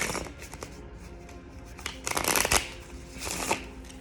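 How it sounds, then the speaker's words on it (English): A deck of cards is shuffled for a reading, with soft handling rustles building into two quick riffling bursts of flicking cards, close and clear, with no talking. "Let me pull from the cards"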